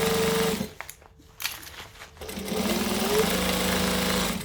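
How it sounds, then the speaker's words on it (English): A sewing machine stitches around the curved edge of a Sachima bag, running steadily at close range, pausing briefly in the middle, then whirring on again. "And slowly stitch my way around, pulling the clips off as I go and bringing this around."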